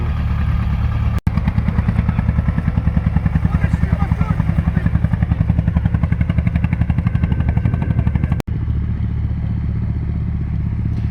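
An old T-25 tractor engine runs steadily with a rapid, even chugging rhythm, close by, with a couple of sharp clicks partway through.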